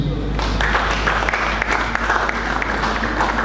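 An audience at a religious conference applauds in a steady, dense wash of clapping that holds for the whole stretch, loud and close, with some crowd noise mixed in.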